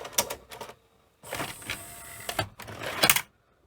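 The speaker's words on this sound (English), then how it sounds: "let's eject the cassette." An Amstrad VCR-4600 VHS video recorder ejecting a cassette: a few close whirring motor and gear bursts with mechanical clicks and clunks, alone and moderately loud.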